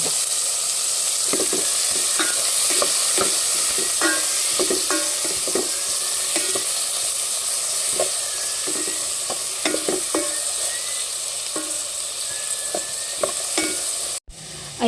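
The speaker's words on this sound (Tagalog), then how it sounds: "bali akin na po ay ginigisa. At ilalagay ko na po itong kamatis." Tomatoes sautéing in hot oil in a pan for milkfish sinigang, a loud continuous sizzle broken by regular stirring clicks and scrapes of a utensil against the pan.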